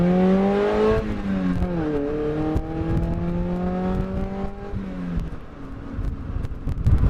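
A Toyota Corolla fitted with a drum to disc brake conversion drives along, its engine note rising and shifting through gears with steady tyre and wind rush inside the cabin, continuous and moderately loud.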